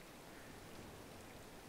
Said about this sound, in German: Oh, es regnet schon wieder.